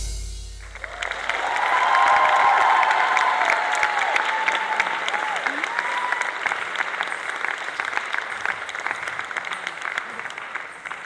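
An audience claps after a dance solo at an Arangetram, a steady, full round of applause swelling after the first second and holding on evenly, while a faint sustained tone lingers beneath the clapping early on.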